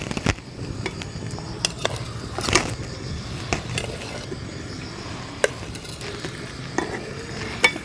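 Soybean dumplings dropped into a simmering curry in a pot, with a steady low bubbling and sizzle broken by soft plops and occasional utensil knocks, close and fairly quiet.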